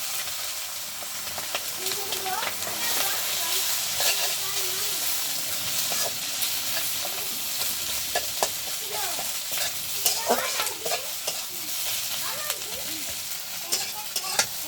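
An egg and dried chilies sizzle in hot oil in a home kitchen pan, a continuous crackling fry broken by frequent scraping stir strokes, with a few faint voices under it.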